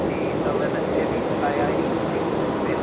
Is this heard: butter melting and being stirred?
no